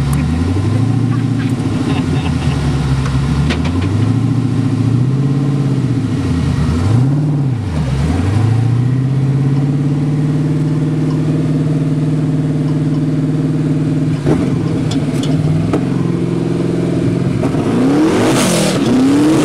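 A 1800 HP twin-turbo LS engine powers a four-person desert racing buggy at Pismo Beach, revving up and down repeatedly in loud, close rising and falling sweeps, with people talking over it at times.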